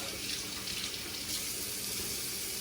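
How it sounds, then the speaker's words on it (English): Warm tap water runs steadily onto a shaving brush over a sink, a continuous soft hiss of flowing water that stays even and fairly quiet throughout, with no talk. "And get some water on there."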